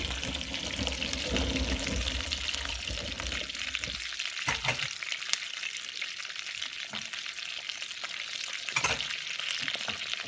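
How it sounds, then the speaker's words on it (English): Refried beans cook in a pan of hot oil, giving a dense, continuous close-up sizzle and bubbling with occasional stirring knocks, heard alone without speech. "after you put the beans in the pan with the hot oil to cook"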